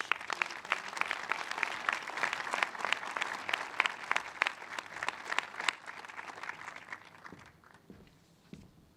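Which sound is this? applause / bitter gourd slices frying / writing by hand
applause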